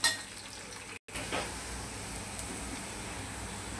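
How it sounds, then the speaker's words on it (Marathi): Potatoes and peanuts fry in hot oil for kande pohe, giving a steady, close crackling sizzle with a brief dropout near the start and no voices. "आता ह्याच्यामध्ये शेंगदाणे टाकून ते सुद्धा थोडेसे फ्राय करून घ्यायचे"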